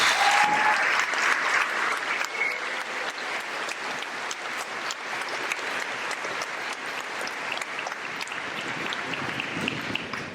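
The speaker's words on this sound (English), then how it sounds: "Let's give them a warm round of applause." Audience applause at a graduation ceremony, a broad, steady clapping from a large crowd heard at moderate distance, continuing evenly throughout with a brief higher tone near the start.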